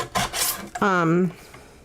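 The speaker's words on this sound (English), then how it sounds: "I'm going to cut it out just on the inside of the red" Scissors or a blade cut through paper cardstock for a handmade card in a few quick rasping strokes, close and fairly loud, with no talking.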